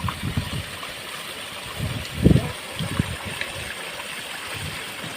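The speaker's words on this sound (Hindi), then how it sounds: "ये देखें पानी कितने स्पीड से रवाना हो गया।" Water rushing down a street drain after sandbags are cleared, a steady gushing flow with low splashes and thumps rising briefly midway, moderately loud and near.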